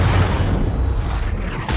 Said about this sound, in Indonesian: sebuah ledakan membuat mobilnya terpental hingga menancap di sebuah bangunan